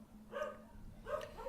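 A dog gives two short, muffled barks at a distance, quiet and spaced about a second apart over a low steady background hum.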